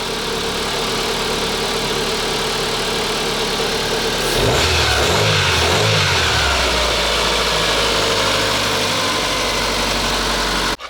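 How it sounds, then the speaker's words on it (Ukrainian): A car engine running steadily on petrol close by, after a catalytic converter replacement, with a brief rev in the middle before settling back to a constant idle hum. "двигунець працює на бензині нормально"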